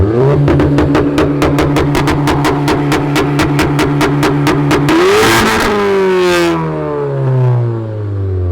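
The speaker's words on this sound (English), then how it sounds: "the Catless Downpipe sounds a hell of a lot better. We're getting way more exhaust noise" A Mk7 Volkswagen GTI with a CTS Turbo catless downpipe and straight-piped exhaust revs hard in rapid repeated bursts, then surges into one long loud roar and fades to a lower rumble, with no talking.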